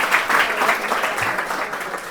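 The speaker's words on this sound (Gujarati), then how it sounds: "આયુષી માટે એકવાર જોરદાર તાળીઓ થવી જોઈએ" Audience clapping for a girl called up at a live anchored stage event, a short burst of dense, close applause that holds steady for about two seconds.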